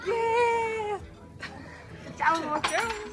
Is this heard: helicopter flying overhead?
no